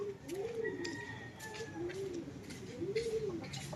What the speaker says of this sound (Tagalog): kasama ng mga kalapating lumilipad dyan o